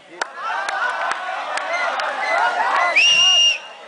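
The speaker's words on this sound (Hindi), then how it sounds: "आपकी तालियां रुकनी नहीं चाहिए।" An audience at a Hindi poetry recital reacts after a poem, with crowd noise, scattered claps and cheering, fairly loud and close, and a rising whistle-like tone near the end.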